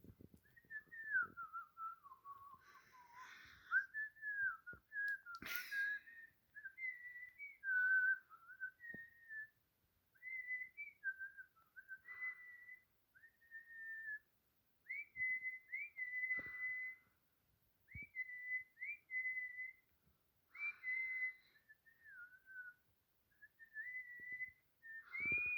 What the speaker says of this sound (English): Or even whistling.